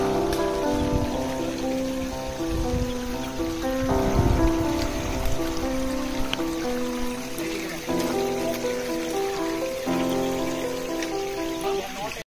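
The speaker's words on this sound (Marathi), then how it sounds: "पावसाचे प्रमाण वाढल्यामुळे पायऱ्यांमधून सुद्धा पाणी वाहत होतं." Heavy monsoon rain pours steadily on the rampart above the Ganesh gate at Korigad Fort, with water running down the stone steps. It makes a dense, unbroken rushing hiss that never lets up.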